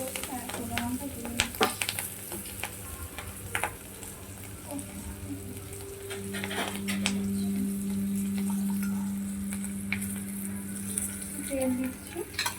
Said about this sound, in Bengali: পেঁয়াজটা দেবো, লঙ্কা দিয়ে কাঁচা লঙ্কা দিচ্ছি, শুকনো লঙ্কা দিয়ে